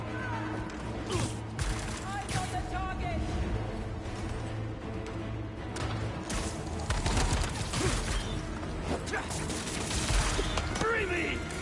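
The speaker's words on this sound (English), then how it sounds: "Opening fire!" Gunfire in Spider-Man 2 on PS5, scattered shots and bursts mixed with game effects and voices talking throughout.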